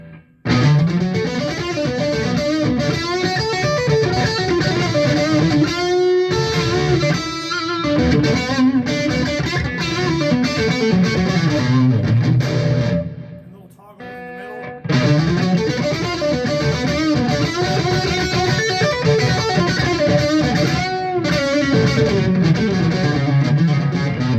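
A G&L G-200 electric guitar plays high-gain, heavily distorted riffs and chords, loud and continuous, with a short drop in the middle before the playing resumes.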